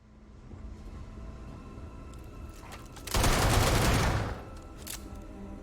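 Pistol gunfire in Starfield from a long-range fan pistol, a dense burst of rapid shots about a second long, loud and close, preceded and followed by scattered quieter pops over low background noise.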